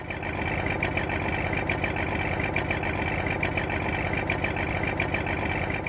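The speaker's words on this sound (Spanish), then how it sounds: "Miren los motores." Boat motors run steadily on a river, a loud continuous mechanical drone with a knocking rhythm that holds throughout, with no speech over it.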